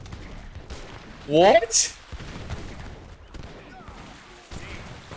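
Mortar fire in the real-time strategy game Age of Empires III: Definitive Edition, a burst of booming artillery shots and impacts over in-game battle sounds, with a commentator's voice briefly heard.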